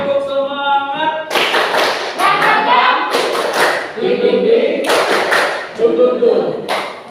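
Classroom of children doing a rhythmic group clapping chant, bursts of loud claps and shouted voices in short repeated phrases with pauses between.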